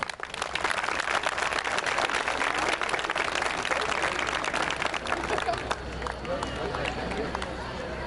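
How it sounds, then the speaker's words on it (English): Sustained applause from a crowd for the 2013 Pineville High School Hall of Fame inductees, steady dense clapping that thins slightly toward the end. "one more huge round of applause for this year's inductees"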